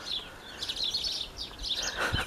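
Several small birds twitter and chirp in overlapping bursts from evergreen hedgerows, soft and a little distant, with no voices.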